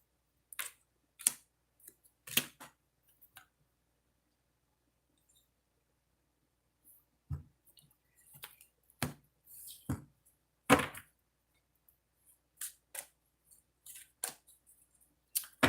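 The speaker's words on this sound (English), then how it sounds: "I'll shuffle the deck" An oracle card deck is shuffled in short, sharp taps and snaps, scattered and separated by quiet pauses, close by with no talking.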